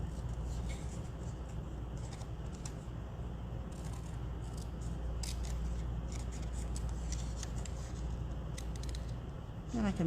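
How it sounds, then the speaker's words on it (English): Scissors snip through a piece of cardstock at a craft table, quick faint cuts against a steady low background hum, with no talking. "And let me put this on a piece of cardstock, I think, and cut it out."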